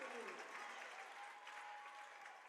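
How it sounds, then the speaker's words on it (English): Volleyball crowd at an NCAA match between Trinity University and Hardin-Simmons erupts in steady cheering and applause after a long rally ties the set, a dense roar with a sustained shrill whistle or scream running through it. "Crowd goes wild."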